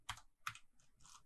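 A handful of quick keystrokes on a computer keyboard while entering R code into RStudio, sharp close clicks in a short uneven burst, quiet and alone.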